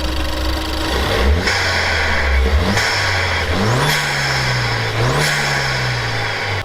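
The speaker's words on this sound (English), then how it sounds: "Just on induction kit, it sounds a lot more meaty, like more of what an ST should sound like." A Ford ST engine fitted with an induction kit revs repeatedly, each loud, throaty blip rising and falling in quick succession, close up with no talking.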